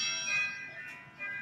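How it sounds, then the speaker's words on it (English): Westminster chimes from a timer ring out in a school board meeting hall, a steady bell-like melodic tone sustained throughout, moderately faint and heard alone. "Westminster chimes?"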